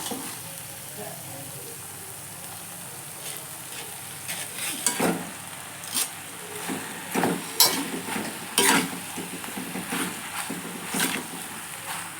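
Pasta hitting a hot pan and being sautéed with chili powder for a peas pasta: a steady close sizzle, with a series of sharp stirring scrapes and clanks growing busier through the second half.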